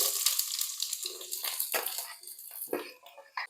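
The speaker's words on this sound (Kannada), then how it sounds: "ಆಯಿಲ್ ಹಾಕಿದ್ಮೇಲೆ ಕಟ್ ಮಾಡಿ ಇಟ್ಕೊಂಡಿರೋ ಆನಿಯನ್ ಆಡ್ ಮಾಡ್ಕೊಳ್ತಾ ಇದ್ದೀನಿ" Chopped onions hit 3 to 4 tablespoons of hot oil in a pan for chilli chicken, giving a bright, steady hiss broken by a few sharp scraping and stirring knocks, close up with no talk.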